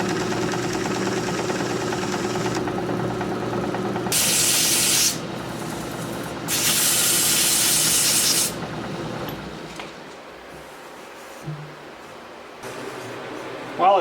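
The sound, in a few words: sanding soft wood on lathe with sandpaper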